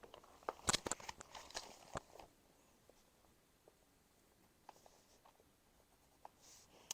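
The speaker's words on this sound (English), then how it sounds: "you're going to draw a line coming out like that" Pencil drawing lines on paper: a cluster of quick, close scratchy strokes early on, then quieter, sparse light scrapes and taps fading into near silence.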